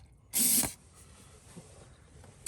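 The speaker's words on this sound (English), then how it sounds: "let me spray some degreaser on it" A single loud burst of aerosol degreaser sprayed onto Toyota Land Cruiser / Lexus LX470 brake parts, a sharp hiss lasting about a third of a second, followed by quiet workshop ambience and a faint tap at the end.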